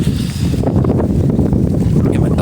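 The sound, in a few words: strong wind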